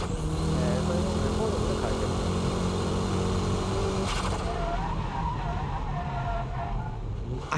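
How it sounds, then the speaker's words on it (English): A car drifting under braking through a wet corner, with a loud, sustained engine roar and tire noise that cuts off abruptly partway, followed by lower rumbling; someone talks over it. "Braking drift is controlled by the braking power, your braking touch."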